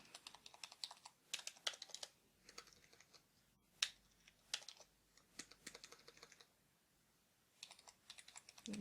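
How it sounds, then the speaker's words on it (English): Computer keyboard typing heard up close and soft, in short bursts of clicky keystrokes separated by brief pauses, with no talk. "just type something in here"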